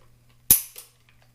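A single sharp metallic click from a Ruger Wrangler .22 LR revolver dry-fired on snap caps during a trigger pull check, close and alone, followed by a softer faint click a moment later.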